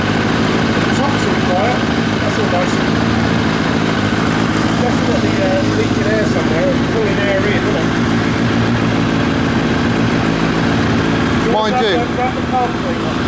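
A 1990 Kawasaki ZZR1100 motorcycle engine idles steadily throughout, with a faint clutch basket rattle under the running engine while people talk close by.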